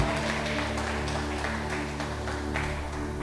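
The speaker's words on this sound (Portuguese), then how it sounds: "Aplauda o Senhor bem forte." A church congregation applauds loudly during a worship service, a dense, steady wash of clapping that runs unbroken over a low background hum.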